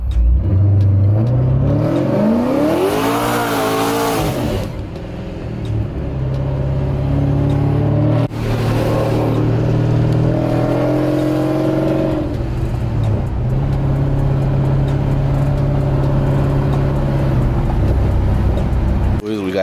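A Cadillac ATS with the 2.0 LTG engine and straight-pipe exhaust revs loudly in repeated sweeping climbs and falls, the raw exhaust note dominating close up with short pauses between pulls.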